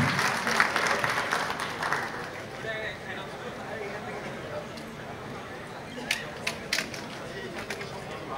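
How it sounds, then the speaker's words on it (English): Audience applause for a panel of guests at a business event, a broad crowd clapping for several seconds that fades to scattered claps near the end. "A big round of applause for all of them"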